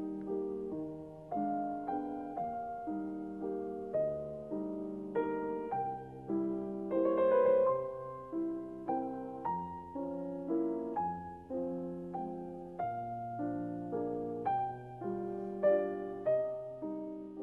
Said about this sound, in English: once a pianist gets a hold of this score and plays it, it sounds like this.